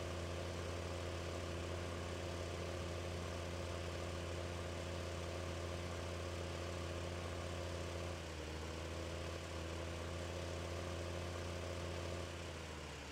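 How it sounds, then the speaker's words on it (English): A tractor in Farming Simulator 15 backing up slowly along a silage bunker, its engine droning loudly and steadily throughout with a slight shift in pitch near the end. "we're just going to back the tractor all the way back up along the bunker here"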